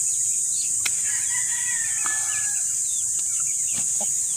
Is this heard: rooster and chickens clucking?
yes